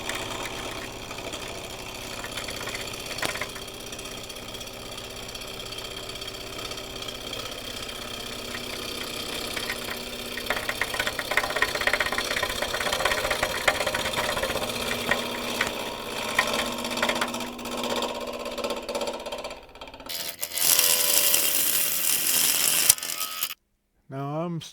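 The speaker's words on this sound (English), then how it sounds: "Doing a push cut with the bevel supported." Wood lathe turning a natural-edge spalted maple calabash hollow form while a gouge makes a bevel-supported push cut, giving a steady whirring, scraping drone with chattering mechanical texture and a harsher burst of cutting noise near the end.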